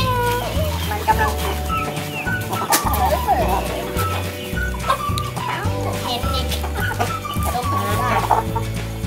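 Chickens cluck repeatedly in a chicken-trap cooking game, the busy clucks layered over a loud, continuous tonal backing with a steady pulsing low rhythm throughout.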